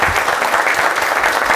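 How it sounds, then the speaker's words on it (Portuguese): Dense, loud applause from a crowd at a rural securitization public hearing, continuous clapping close by filling the whole moment. "Uma salva de palmas ao SOS Agro."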